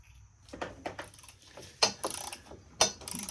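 Ratchet tightening bolts on LED light cubes mounted to a 2020 Polaris Sportsman 570, giving several close, crisp clicking bursts in an uneven rhythm, with louder strokes near the end and no talking.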